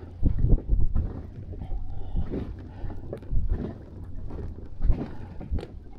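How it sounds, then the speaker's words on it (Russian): Strong wind buffets a microphone out on the water during a fishing trip, coming in low rumbling gusts that swell and drop over a few seconds. "Ветер сильный."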